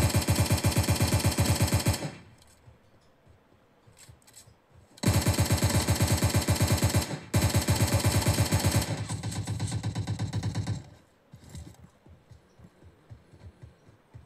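Loud bursts of rapid automatic gunfire in PUBG Mobile Lite's zombie mode come in long rattling volleys, broken by quieter gaps holding faint thumps and shots.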